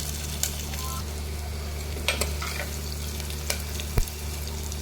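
Onions fry and sizzle in a pan while being stirred, a steady close crackle with a low hum beneath and a few sharp spatula scrapes and clinks against the pan.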